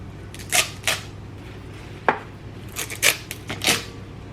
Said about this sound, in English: And you probably want to like then chop them in half.